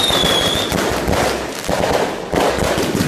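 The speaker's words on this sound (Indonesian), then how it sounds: "Wah, ini ada petasan. Wow, petasan Roman Candle." Roman candle fireworks fire in a rapid, continuous crackling burst, loud and close, with sharp pops layered through a dense hiss.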